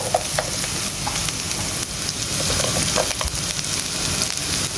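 Garlic and onion sauté in butter in a pan, a soft, steady sizzle with light crackles and occasional stirring clicks, close and alone.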